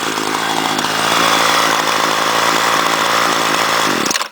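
A Homelite Mightylite string trimmer with a 26cc two-stroke engine runs loud and close at a steady high buzz, holding constant for about four seconds before cutting off abruptly.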